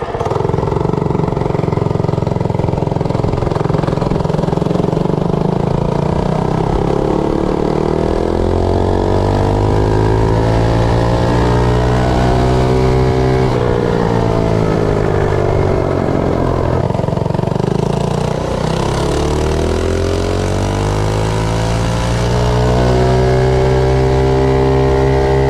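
A Predator 212 small engine fitted with a GX160 cylinder head drones through a top speed run, loud and steady, its pitch climbing through several rising sweeps as it gains speed, with a brief dip midway and no talking.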